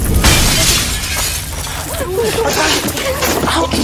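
Glass shattering and breaking up close during a chaotic emergency, with sharp crashing bursts and scattered tinkling debris while people shout over the noise.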